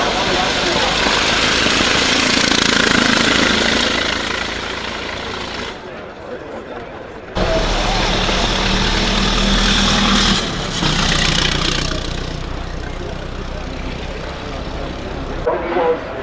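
A 1906 vintage car with a 200 horsepower engine runs loudly and steadily, its rumble cutting out briefly before returning, with a crowd talking in the background at a classic car event.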